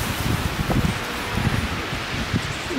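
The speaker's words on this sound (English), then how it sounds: "Yeah, the winds are rocking and rolling." Strong wind blows outdoors with a constant rushing roar and rustling, punctuated by gusty buffeting bumps on the microphone.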